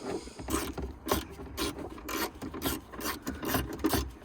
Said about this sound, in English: So just tighten this bolt now